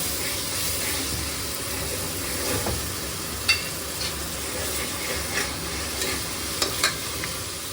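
A spoonful of ginger-garlic paste fries in a pan while being stirred, giving a steady close sizzle broken by occasional sharp spoon scrapes and taps, with no talking.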